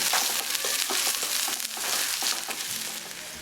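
Chopped onion fries in a little oil while it is stirred, for nihari. A close, bright crackling sizzle is broken by quick scraping and crunching strokes of a utensil.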